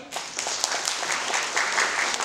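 A crowd at a victory celebration party applauds its stars in a dense, sustained round of clapping that fills the hall evenly from start to finish.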